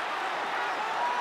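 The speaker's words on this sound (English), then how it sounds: "The crowd enjoying the action here at the Osaka Dome" Arena crowd at a PRIDE mixed martial arts event in the Osaka Dome, a steady broad wash of applause and cheering filling the space without a break, loud and continuous.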